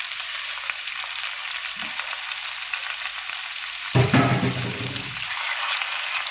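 Chicken frying in a karahi over medium heat gives a steady, even hiss, with a louder burst of sizzling and stirring midway before it settles back.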